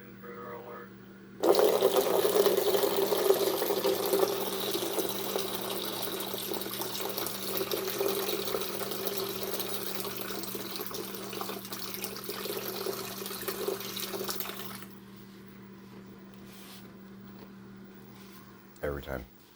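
Water runs from a tap in a strong, steady gush that starts suddenly and continues for about thirteen seconds before it is shut off.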